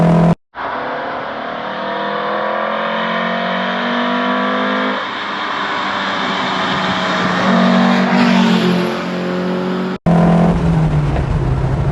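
A Lancia Fulvia's small V4 engine screams at high revs around 6,500 rpm, sustained and loud with rising and falling harmonics, briefly cutting out twice before roaring back.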